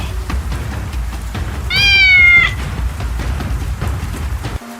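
A cat meows once, a clear rising-and-falling harmonic call near the middle, loud and close, over a steady background hiss with no talk.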